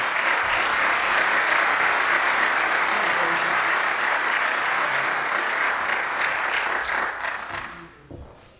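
An audience at a New York state government event on a casino gaming amendment gives sustained, loud applause that holds steady for about seven seconds, then thins out and fades away.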